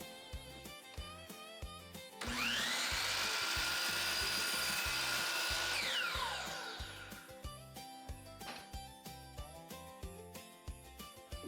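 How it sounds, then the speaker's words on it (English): A miter saw cuts through a cedar fence picket, a loud whining roar that rises abruptly, holds for about four seconds, then winds down, with rhythmic background music before and after. "Let's head over to the miter saw to get this cut."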